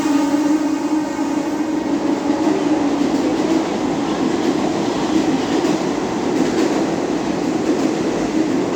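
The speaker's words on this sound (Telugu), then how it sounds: "ఇది ఫాస్ట్ లోకల్ ట్రైన్ వస్తుంది సిఎస్ఎంటీకి వెళ్ళేది." A fast local train bound for CSMT thunders through Dadar railway station in Mumbai, its loud, steady rumble and rattling wheels close by and unbroken throughout, with no voices.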